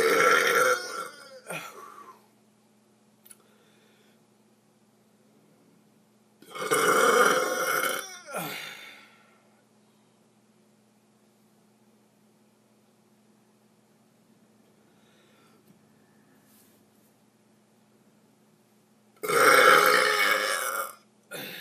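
A man lets out three long, loud burps close to the microphone, separated by stretches of near silence with a faint steady hum.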